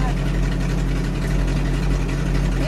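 A car engine idles and runs at low revs during a driving lesson, a steady low rumbling hum that holds unbroken throughout while voices talk over it.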